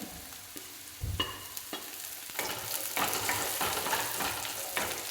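Green chillies added to a pan of sardine curry and stirred, giving a steady close sizzle with repeated scraping and stirring clatters, no voices.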